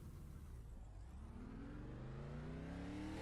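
A Chevy Camaro race car engine revs in iRacing, its pitch climbing smoothly and steadily toward high RPM after a brief dip, loud and close with no voices over it.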